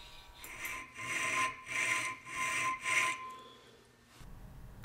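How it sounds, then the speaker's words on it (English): A hand file works steel knife shoulders held in a vise, four rhythmic rasping strokes close and clear, each a gritty scrape, followed by a quieter pause. "I use the jaws of the vise as a guide for straightness and file to the mark"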